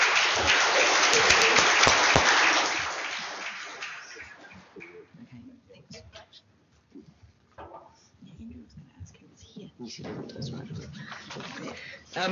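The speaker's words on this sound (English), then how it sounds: "Let's give them a round of applause." A conference audience bursts into loud applause that swells for a few seconds, then thins and fades, giving way to a speaker talking.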